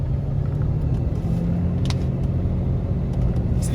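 Big pickup truck engine droning steadily during a drift run on a paved track, a continuous low rumble held close and loud throughout with no voices.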